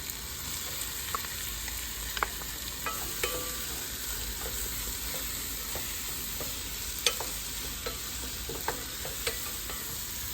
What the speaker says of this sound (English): So now we would start putting in some onions.